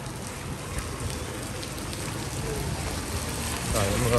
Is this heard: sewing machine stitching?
no